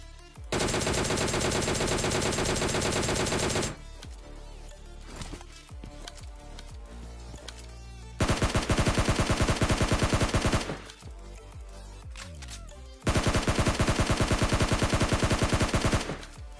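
Loud, close automatic gunfire in PUBG Mobile Lite, long sustained rapid bursts separated by quieter stretches of scattered shots and game noise, with no voice over it.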